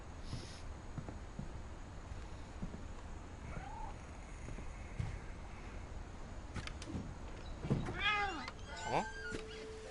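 A cat meows a few times in the video game What Remains of Edith Finch, short rising calls late in the clip over a faint ambient background, with brief talk earlier.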